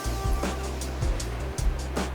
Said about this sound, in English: it is extremely windy outside right now